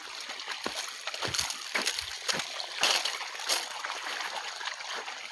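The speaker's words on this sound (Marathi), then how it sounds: "हे बघा मित्रांनो, आता लागले पाणी." Water splashing and trickling out of a pipe at a farm site in Maharashtra. Irregular sloshing bursts run continuously at moderate level with no talk.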